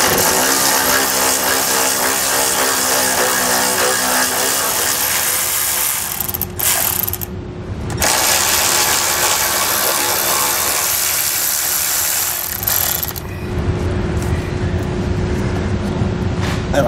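Continuous loud ratcheting and whirring of a power wrench loosening 10 millimeter nuts on a 2015 Jeep Compass, with short pauses between bursts and no talking.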